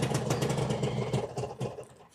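A Suzuki Satria 120 motorcycle engine runs with a steady mid-pitched rumble, then cuts out near the end as the stop-engine button is pressed, the sound fading to near silence.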